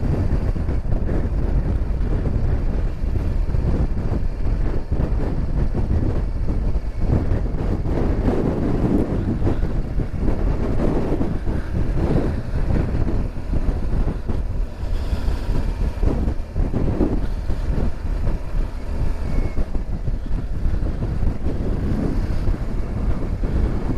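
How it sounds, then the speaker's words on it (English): Strong wind buffets the microphone on a stormy Connemara coast at high tide, a loud, constant roaring rumble mixed with surf wash, unbroken for the whole stretch with no talking. "The tide is in and the wind is up."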